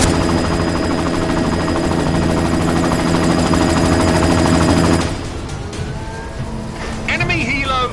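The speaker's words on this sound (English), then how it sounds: "You've got to stop that chopper." An enemy helicopter in a combat video game roars with steady rotor drone and gunfire for several seconds, then drops to a quieter rumble with scattered bursts and voices speaking over the action.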